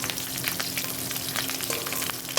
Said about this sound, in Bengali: রসুনের কোয়াটাকে একটু ভেজে নিয়েছি।